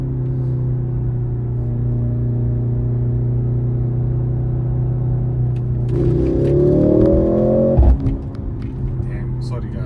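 A Mercedes-Benz C63s E-Performance in race mode with a manual gearbox drones steadily, then surges as it accelerates hard, its rising engine pitch cut off by a sharp shift, heard from inside the car.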